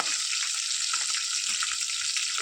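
Cumin seeds, curry leaves and green chilies sizzle steadily in hot oil, a dense, continuous crackle with small pops and no talk over it.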